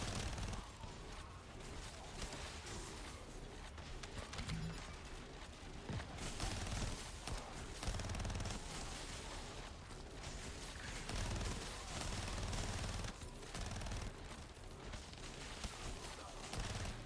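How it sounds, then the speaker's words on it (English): The Needler weapon firing in The First Descendant, dense continuous gunfire and impacts blending into a loud, busy game soundscape with faint talk underneath. "Yeah, the Needler is cool. Pretty intense weapon all in all."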